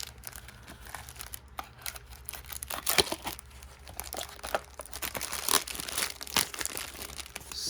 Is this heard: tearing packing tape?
yes